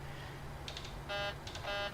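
In a PMDG 737 cockpit in the flight simulator, two short pairs of electronic warning beeps sound during a takeoff configuration test, faint and close over a steady hum.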